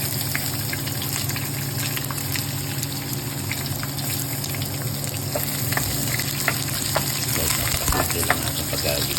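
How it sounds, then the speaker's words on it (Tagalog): Garlic sautéing in hot cooking oil in a pan, with onion added to follow for mussels, giving a steady, close, dense frying sizzle throughout with small pops and stirring scrapes. "Lalagyan na natin ng mantika at tayo mag-umpisa na mag-gisa"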